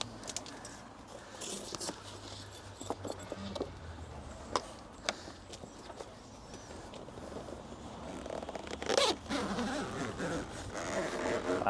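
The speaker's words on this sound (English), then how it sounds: "Zip that up." A zip being run along a Specialised Covers Tow Pro Elite towing cover, heard as short, fairly faint zipping strokes and taps among rustling, with a sharper pull near the end.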